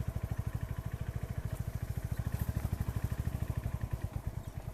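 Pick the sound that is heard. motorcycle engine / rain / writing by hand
motorcycle engine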